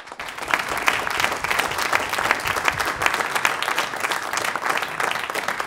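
Applause from a conference audience at the close of a round table, dense and sustained clapping from many hands that holds steady for several seconds, near and fairly loud.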